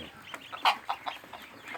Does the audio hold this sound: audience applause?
no